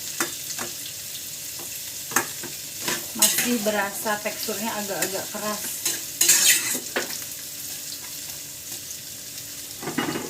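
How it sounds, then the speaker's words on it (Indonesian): Jengkol frying in oil in a pan sizzles steadily while being stirred, with intermittent scraping and clattering of a utensil; a person speaks briefly over the cooking sounds. "Ini kan udah kita goreng nih kurang lebih sekitar 2 menit."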